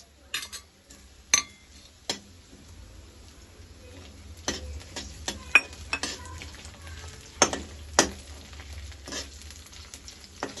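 Vegetables with onion and garlic frying in a pan give a faint, low sizzle, broken by sharp utensil clinks and scrapes against the pan at irregular intervals.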